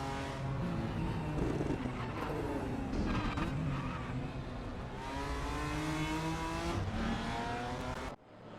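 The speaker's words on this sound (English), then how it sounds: "Just letting everyone enjoy the sounds of race room." Race car engines in the RaceRoom sim racing game at Chang circuit rev and shift up through the gears, several cars roaring close together with tire noise, loud and continuous, cutting off sharply near the end.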